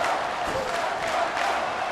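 A sellout crowd fills a baseball stadium at Pittsburgh's Pirates home game against Milwaukee, a steady, dense roar of many distant voices murmuring and cheering without break.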